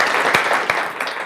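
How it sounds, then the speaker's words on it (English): Audience applause for a speaker being introduced at an engineering talk, a steady wash of clapping from the room with a few sharper claps standing out, lasting only a moment. "Please give a round of applause for Mani Golparvar."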